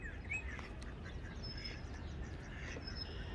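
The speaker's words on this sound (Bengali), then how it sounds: "বাংলাদেশের হাঁসের ডাক শুনতে পাচ্ছি" Ducks quack repeatedly over steady outdoor background noise, with a few birds calling faintly in the distance; no one speaks.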